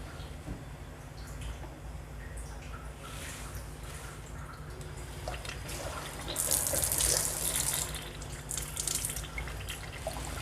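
Water runs steadily from a Kangen water ionizer machine, a continuous close hiss and splash like a tap filling a vessel, growing louder and brighter partway through.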